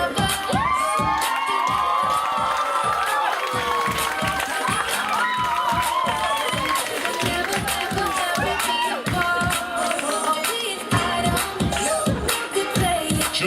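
A hypnotist show audience cheers, screams and shouts continuously with whoops and some clapping, a loud, dense crowd roar with children's voices mixed in.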